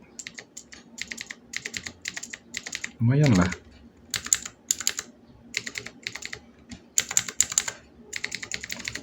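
A non-hotswap mechanical keyboard with blue switches modded to feel linear clatters with quick bursts of soft, clickless keystrokes in uneven rhythm, close up, with a brief spoken remark in the middle.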